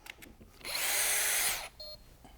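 A Festool drill fitted with a large hole saw bores through material, a loud, close, steady whine lasting about a second after a few faint knocks, then a brief lower burst.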